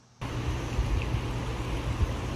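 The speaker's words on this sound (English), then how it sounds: "So 3 days of listening to this river go by sounds amazing." A river rushes steadily past a campsite at Natural Bridge State Park on the Middle Fork in Kentucky, a continuous moderate flowing wash that begins abruptly and holds without speech.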